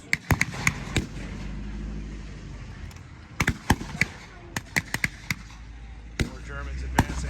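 Mortar and gunfire at an outdoor WWII reenactment at the Texas Military Forces Museum, a series of sharp loud bangs, some in quick clusters, some spaced seconds apart, over a wind-blown background with occasional talk.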